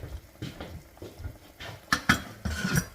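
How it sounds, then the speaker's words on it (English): A lid is set on a cooking pot with a few light metallic clinks and taps, close by and fairly quiet, amid faint kitchen handling noise. "Just put the lid on"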